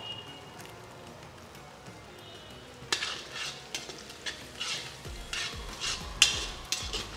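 Onions and torn curry leaves fry in a pan, a soft sizzle under repeated scraping and clinking of a spoon stirring, close and intermittent.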